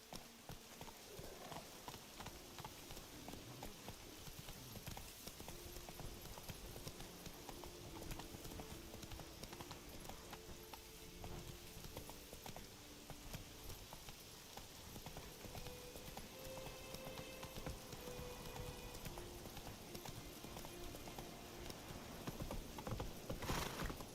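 Hooves of a horse galloping in The Witcher 3 video game, a quick steady clip-clop run in rain, sustained for over twenty seconds with faint background ambience and rising slightly louder near the end.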